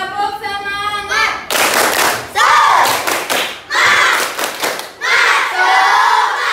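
A class of children in Indonesia claps together in rhythmic bursts while chanting "Tepuk semangat" loudly in unison, the claps and shouts alternating in a lively pattern.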